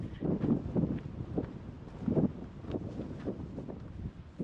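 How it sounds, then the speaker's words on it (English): Wind gusting on an open hike in the Faroe Islands, near Leitisvatn, buffeting the microphone in low, uneven rumbling surges with brief stronger blasts throughout, no talking. "But the wind now is gonna pick up."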